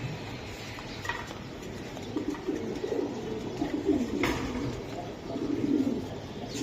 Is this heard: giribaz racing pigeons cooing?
yes